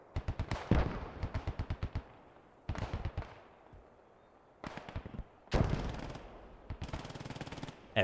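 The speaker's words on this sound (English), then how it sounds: "MG42's loading up, firing from the town. That 50 cal firing down the street." MG42 and .50 cal machine guns fire in Post Scriptum, several rapid bursts of sharp rhythmic shots broken by short pauses, some close and loud, others more distant with echoing tails, and no talking.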